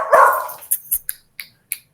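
Small dogs barking indoors: a longer yelp or whine followed by a string of short, sharp, close barks spaced irregularly.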